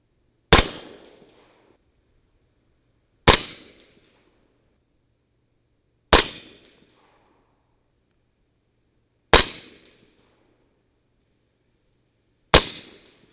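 Five evenly spaced single shots from a CMMG 300 Blackout rifle with an 8-inch barrel firing subsonic loads, each a sharp loud crack with a short decaying tail, separated by about three seconds of silence.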